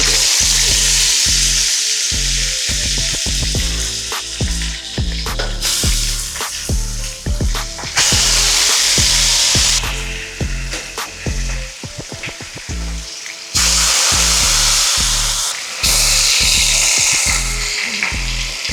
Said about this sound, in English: now I'm gonna put the oxtail in and start browning.